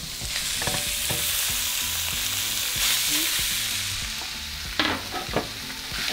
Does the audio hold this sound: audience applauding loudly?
no